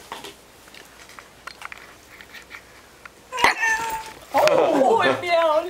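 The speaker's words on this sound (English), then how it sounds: "Oh, it meowed." A fake toy cat gives short meowing cries near the end, bright and close, after a quieter stretch of faint rustling and handling noise. People speak around it.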